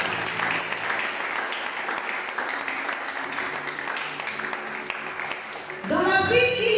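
A church congregation applauds through most of the clip as a steady wash of clapping, with voices rising over it in the last second.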